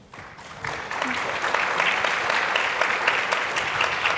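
An audience at a tech panel discussion on inclusion breaks into applause, rising within the first second into steady, dense clapping that continues to the end, with faint talk underneath.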